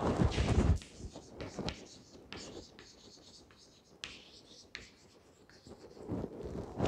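Handwriting strokes in a school English lesson: scratchy bursts of writing that start and stop over several seconds, close by, with a faint voice in the background.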